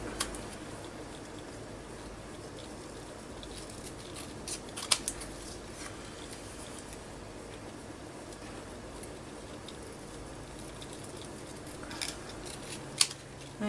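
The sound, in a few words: scissors trimming a journal card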